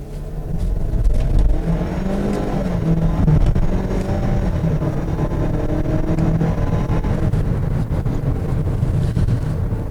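A Ford Bronco Sport SUV in manual mode with paddle shifters, accelerating hard on a dynamometer; loud continuous engine roar with rising revs and a droning low rumble, close and unbroken for the whole stretch.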